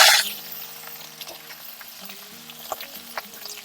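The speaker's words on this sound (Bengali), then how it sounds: "তেল গরম হয়ে গেছে ভেন্ডি ভেজে নেবো" Hot oil sizzles and crackles as okra fries in a pan, with a burst of loud spitting at the start settling into a steady, gentle sizzle.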